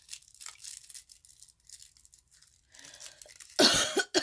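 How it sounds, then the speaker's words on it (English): A single loud cough bursts out near the end, following several seconds of quiet rustling and crinkling. "That's all I ever do is cough."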